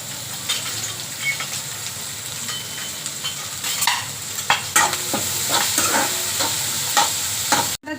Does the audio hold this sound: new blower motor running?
no